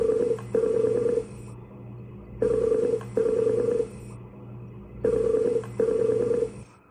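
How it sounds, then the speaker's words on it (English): An iPod rings during a Skype call, with three repeated bursts of a loud electronic ringtone over a steady low background hum, each burst about a second and a half long. "My iPod is also ringing. Hear that?"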